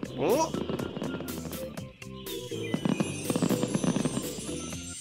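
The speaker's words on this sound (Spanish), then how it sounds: "esos fuegos artificiales, Carl?" Cartoon fireworks crackle and pop in rapid bursts, with booms and sizzling bangs layered over music and voices in a busy, loud scene.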